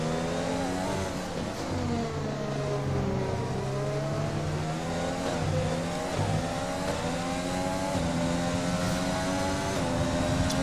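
Formula 1 cars race in the F1 2020 video game at the Spain Grand Prix, with steady loud engine whine rising and falling in pitch through gear changes and corners, several cars overlapping throughout.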